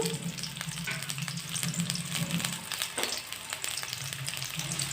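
Sliced onion and green chili fry in a pan, a close, steady sizzle of hot oil with occasional stirring clinks and scrapes, moderately loud and without anyone talking.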